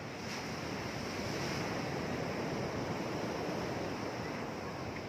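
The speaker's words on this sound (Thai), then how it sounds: "โอ้ยน้ำทะเลครับ คลื่นใหญ่เลยครับ" Large sea waves roar in a constant, broad wash of surf, steady and loud throughout with a faint breeze, no voices.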